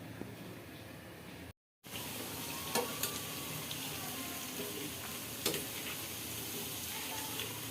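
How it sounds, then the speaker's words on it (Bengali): Snacks such as potato chops and aubergine fritters frying slowly in hot oil in a small wok, a soft, steady sizzle with a few faint crackles and a brief dropout near the start. "গরম বসাই দিয়েছি এখন ধীরে ধীরে ভেজে নেই"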